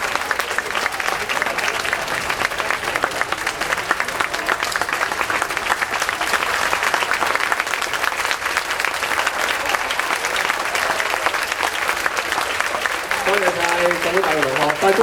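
Sustained, dense applause from a large audience at a university debate final prize ceremony, steady and loud for the whole stretch, with a voice briefly rising over it near the end.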